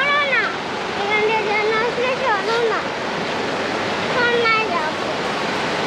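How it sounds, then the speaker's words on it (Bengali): Steady rushing roar of a waterfall near a hanging footbridge on the Lingtham to Rangpokhola route, loud and continuous throughout, with people talking over it. "এই দেখো, ওই দিক দিয়ে ঝর্ণা আসছে।"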